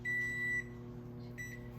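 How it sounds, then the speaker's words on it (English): An oven timer beeps twice in a kitchen, each a clear sustained tone separated by a short gap over a low steady hum. "So here the timer's done."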